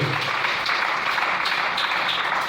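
A church congregation bursts into steady, dense applause, fairly loud and continuous throughout, with no speech over it.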